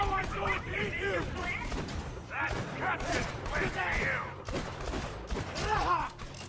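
Torpedo gun fired in the video game Borderlands 2, a string of booming explosive shots and thuds bursting repeatedly over a busy game soundtrack, with someone talking over the action.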